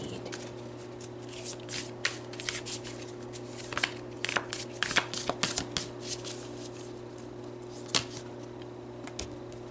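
Oracle cards shuffled and pulled from a deck, a close, dry run of quick riffling flicks and soft slaps in irregular bursts over a low steady hum, with no talking.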